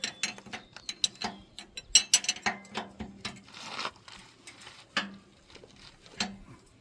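Wrench ratcheting in short, quick bursts while tightening the chain on a Tajfun logging winch, close and fairly clear, the metallic clicks coming in irregular clusters with brief pauses and no talk.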